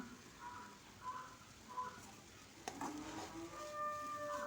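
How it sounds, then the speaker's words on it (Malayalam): A spoon stirs pumpkin thoran, a Kerala pumpkin stir fry with coconut, in a pan. There is faint soft sizzling and a few scraping strokes, followed by a sharp clink and some light utensil tones near the end. "ഒരിക്കൽ കൂടി ഇളക്കി യോജിപ്പിച്ച് നമുക്ക് മൂടി വയ്ക്കാം"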